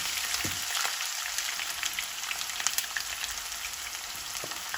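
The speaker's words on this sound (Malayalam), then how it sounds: "എണ്ണയിലേക്ക് തന്നെ ഒനിയൻസ് ഇട്ട് ഫ്രൈ ചെയ്തെടുക്കാം" Onions fry in hot oil in a small pan, a steady close sizzle with scattered crackles and a few soft clinks, no voices.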